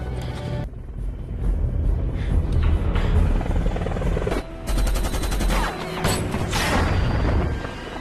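Helicopter and gunfire in the 2007 film Shooter: a loud, continuous rotor drone with bursts of rapid automatic fire and heavier impacts layered over it, sustained and close throughout.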